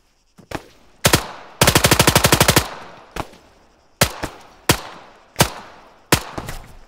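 Automatic weapon fire rings out in the military shooter Arma 3: a few sharp single shots, then a rapid ten-round burst, followed by more spaced, loud, echoing shots.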